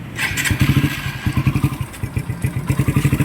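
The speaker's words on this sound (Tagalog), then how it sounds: "Boss, pa-start nga ako ng motor. Titingnan natin kung anong tunog bago natin kalasin." A noisy motorcycle engine cranks and catches, then runs in a rapid, lumpy putter that rises and falls in loudness, close and loud.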